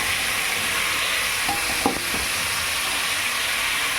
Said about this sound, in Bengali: আর সবজিগুলো আমি একবারেই কষিয়ে নেব, আলাদা করে আর ভাজিনি।